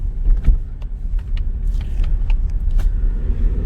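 A Nissan Sentra with freshly replaced front struts, front link pins and rear shocks drives along, its engine and road noise a steady low rumble with a few light knocks and rattles from inside the cabin.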